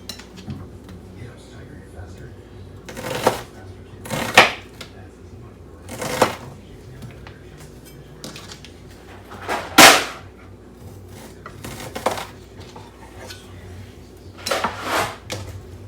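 A knife chops food on a cutting board during kitchen meal prep, producing a handful of separate, fairly close, sharp cuts spaced a second or more apart against a quiet background.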